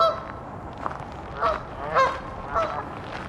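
Geese in a flock honking in a cold, snowy setting, repeated loud nasal calls coming in clusters every half second or so, fairly close, no speech.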